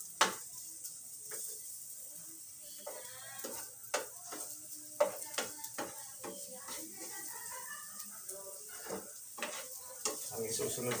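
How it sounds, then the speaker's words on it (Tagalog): Onion goes into a pan of garlic and sautés for puke-puke eggplant, a steady crackling sizzle with scattered scrapes and clatters of a stirring spoon, close and moderately loud, with brief voiced sounds over it. "Habang ginigisa po, ayan, sibuyas na natin yung ilagay"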